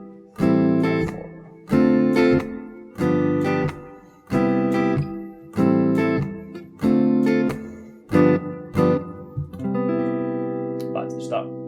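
Beginner jazz chords are strummed on a guitar in a rhythmic pattern of repeated chord hits, each group ringing briefly before the next change, ending on a sustained final chord.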